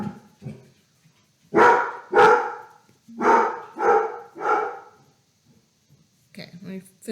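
Jack the dog barks five times in a loud, close, evenly spaced sequence, with a short indoor voice heard before and after.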